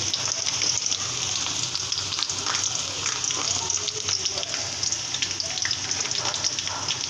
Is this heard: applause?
no